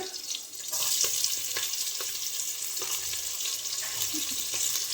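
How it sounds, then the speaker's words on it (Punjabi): Sliced onions and chilies fry lightly in a pressure cooker while Maggi noodles are being made, giving a steady close hiss of sizzling oil with a few soft clicks and no talking. "ਪਿਆਜ਼ਾਂ ਨੂੰ ਹੁਣ ਆਪਾਂ ਭੁੰਨ ਲਾਂਗੇ ਜੀ ਹਲਕੇ ਜਿਹਾ ਫਰਾਈ ਕਰਾਂਗੇ"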